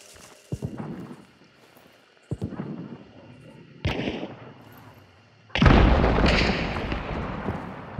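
Several separate gunshots crack out at a distance in the video game Hunt: Showdown, each followed by a rolling echo tail; the last blast is louder and decays longer, with no talking.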